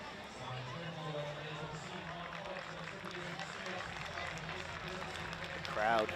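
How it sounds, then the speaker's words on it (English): Spectators at a Netherlands race track clapping for a rider who got up and rode off after a crash, a faint scattered patter under crowd murmur that swells near the end. "Crowd clapping."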